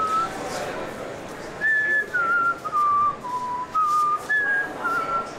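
A person whistles a wandering tune of short, clear notes with brief pauses between phrases, close and fairly loud, with some faint background noise and no speech over it.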